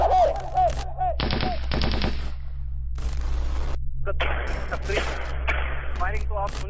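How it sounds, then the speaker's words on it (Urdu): Gunfire during an armed attack on an Ahmadiyya mosque in Sialkot, Pakistan: bursts of sharp shots cracking in quick runs over a steady low hum, with dense noisy stretches and some voices mixed in. "فائرنگ تو آپ سن ہی رہے ہوں گے"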